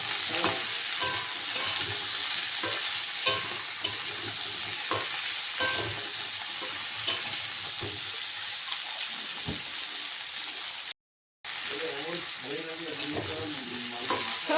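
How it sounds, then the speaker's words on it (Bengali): Mixed winter vegetables for a Bengali niramish fry steadily in a pan, with a continuous loud sizzle and frequent scraping stirs throughout and a brief gap near the end. "সবজিগুলোকে আমি ভালো করে ভেজে নেব সব"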